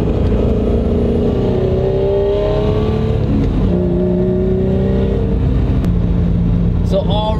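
A car fitted with a clutched limited-slip differential accelerates along a road, its engine rising through several revving pulls and gear changes, loud and close from inside the cabin.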